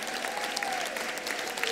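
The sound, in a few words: graduation crowd cheering and applauding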